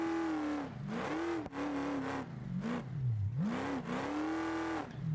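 An off-road race truck engine in the BeamNG driving game revs hard and close, its pitch swinging up and down through several throttle surges.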